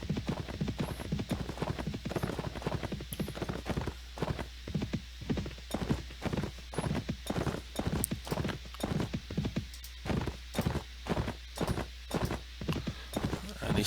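Horse hooves gallop steadily in Mount & Blade Warband, a fast, even clip-clop rhythm that stays close and prominent throughout, with occasional faint whinnies.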